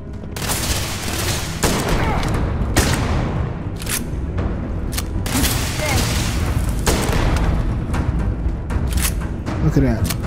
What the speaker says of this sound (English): Look at that. Three shots.